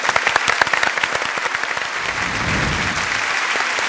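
A studio audience claps after a trombone solo on a Turkish music show, starting as scattered sharp claps and swelling into a dense, steady round of applause that holds to the end.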